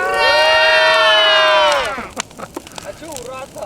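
A group of holidaymakers on a sea shore shouts a long, loud, drawn-out hurrah together to close the season, then breaks off into scattered voices and short bursts of talk.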